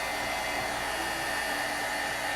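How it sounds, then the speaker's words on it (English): A heat gun blows a steady, close, constant hiss of hot air onto an epoxy-coated glitter tumbler, unbroken throughout with no talking. "I'm going to go ahead and hit it with my heat gun"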